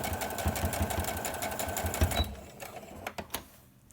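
A sewing machine stitches across the pleats of a fabric face mask, a fast close mechanical chatter that slows and stops partway, then a few separate clicks and thumps.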